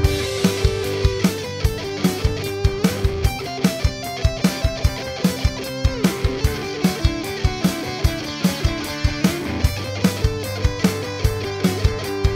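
Lead electric guitar runs a scale in a repeating sequence pattern, with quick, evenly spaced notes over a driving drum beat and backing band for several seconds.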